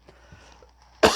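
A single sharp cough from a woman breaks out at the very end, loud and close, after a near-silent room with faint rustles.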